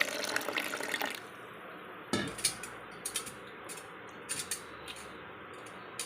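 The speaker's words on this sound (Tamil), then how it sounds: "கொஞ்சம் ஹாட் வாட்டர் ஊற்றிக்கிறேன்." Hot water is poured from a vessel into a mixer jar in a home kitchen, a running, splashing pour for about a second followed by several light clinks and knocks of the jar and utensils.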